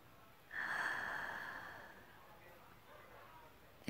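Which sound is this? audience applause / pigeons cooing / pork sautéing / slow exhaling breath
slow exhaling breath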